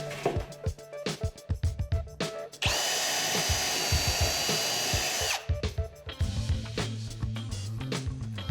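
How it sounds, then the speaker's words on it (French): Power drill boring straight holes in wood for a custom machine cabinet, a loud steady whine lasting a few seconds, with knocks and handling clatter before and after. "à l'aide de votre gabarit, percez bien droit les trous pour votre connexion mâle-femelle"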